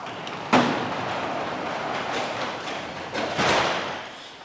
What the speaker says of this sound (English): The door doesn't stay up.